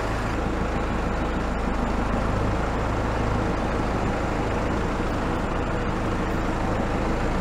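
A tractor fitted with homemade tire chains rolls over concrete, giving a continuous loud rumbling drone with a faint rattling grind and no clear pauses or voices.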